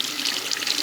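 Tap water runs steadily into a sink while hands are rinsed, a close, even hiss of splashing flow lasting the whole moment with no pauses.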